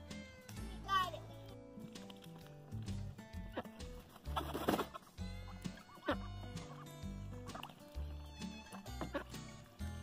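Chickens cluck and squawk close by in irregular bursts, with a voice and other chatter mixed in.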